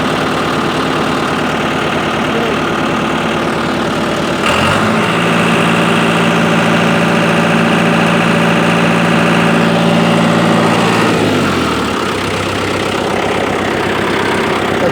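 A John Deere tractor engine idles with a steady low mechanical hum and vibration, rising briefly to a fuller, louder drone midway before settling back to idle, with no talking over it.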